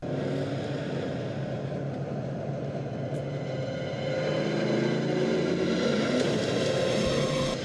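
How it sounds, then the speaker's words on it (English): A car engine rumbles steadily from a television drama scene, a continuous low drone that swells slightly louder midway, with music or effects layered over it and no clear talk. "Negan's car."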